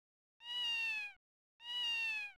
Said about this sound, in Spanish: suena como un gatito